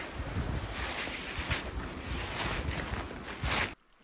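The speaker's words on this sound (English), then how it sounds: "Got some running water there that I can hear" Steady broadband rush of running water beside a winter hammock camp in the woods, continuous and fairly close, with gusty wind noise over the microphone before it cuts out abruptly near the end.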